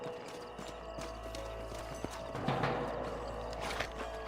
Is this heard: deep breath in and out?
no